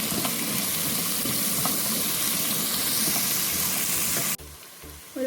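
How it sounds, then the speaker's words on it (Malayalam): Onions and tomato sauté in a pan for chicken curry, giving a continuous hissing sizzle that cuts off abruptly near the end, leaving quieter background noise. "നമുക്ക് ഉള്ളി കുറച്ചൊന്ന് വഴണ്ട് കഴിയുമ്പോൾ തക്കാളി ചേർത്ത് കൊടുക്കാം."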